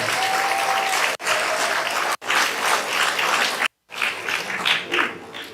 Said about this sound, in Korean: 우리 자기 자신에게 한번 박수 한번 부탁드리도록 하겠습니다